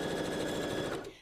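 A sewing machine stitches a diagonal fabric seam in one steady, close mechanical whir that runs evenly for about a second, then cuts off.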